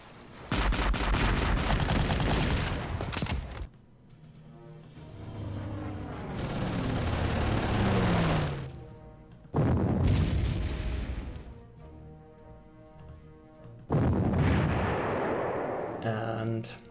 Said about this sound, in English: And the artillery did the job.